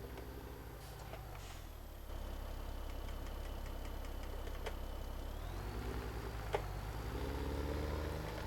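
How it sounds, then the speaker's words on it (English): A powerful tractor engine runs steadily during a large beet harvest. It makes a continuous low, rumbling drone that grows slightly louder partway through, with faint clicks and no talking. "It's actually a nice, powerful tractor here"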